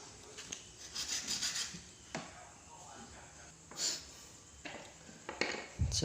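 A small piece of PVC pipe has its corners smoothed by hand, giving quiet, uneven rubbing and rasping strokes with short pauses and a few light knocks.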